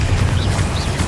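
A Confringo spell bursts in Hogwarts Legacy with a short, loud, low booming blast that rumbles briefly, with a faint whooshing sweep above it.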